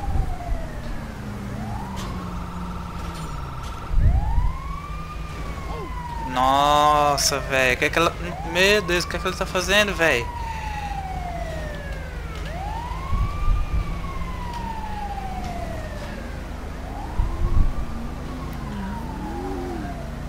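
An ambulance siren in the video game GTA V wails in repeated rising and falling sweeps as it approaches, over steady engine rumble, with a brief burst of rapid yelping tones midway and excited talk throughout.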